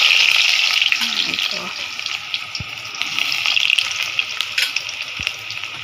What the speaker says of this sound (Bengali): এখানে আমি তেল দিয়ে দিছি। এই পেঁয়াজ কুচিটা দিয়ে দিব